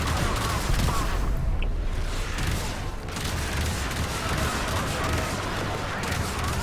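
Dense, continuous gunfire and booming hits in Warframe as enemy boarding parties shoot up a ship. The roar is loud and unbroken throughout, a wash of overlapping shots and blasts.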